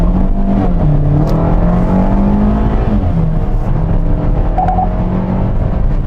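Kia Soul Booster accelerating hard under kickdown toward 100 km/h, a loud continuous engine drone with rising pitch sweeps and a brief upshift dip, heard steadily from inside the car with no talk.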